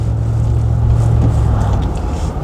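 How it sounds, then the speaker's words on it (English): An Overfinch Range Rover P38 drives along with a muted exhaust, a loud steady low engine drone holding one pitch inside the cabin, no voices. "I'm also surprised by how muted the exhaust is as well"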